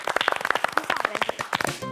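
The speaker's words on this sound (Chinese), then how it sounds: "给自己掌声鼓励一下哦" A studio audience gives a quiz contestant a short burst of brisk, close clapping, dense at first and then thinning toward the end.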